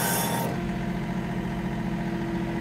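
The HydrosPlus backhoe prototype's engine runs at a steady low rumble close by, opening with a short burst of brighter noise that quickly drops away to an even, unbroken drone.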